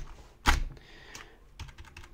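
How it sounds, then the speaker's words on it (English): Keys tapped on a cheap Dollar Tree membrane keyboard styled like a mechanical one, giving a sharp close clack followed by a few softer scattered presses, heard up close with no talking. "So this is a membrane keyboard disguised as a mechanical keyboard."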